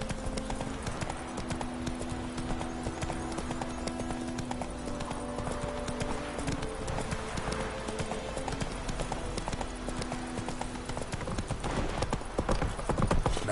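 Roach the horse's hooves clip-clopping in a steady walking rhythm in The Witcher 3: Wild Hunt, fairly soft and continuous, with a low game soundscape underneath.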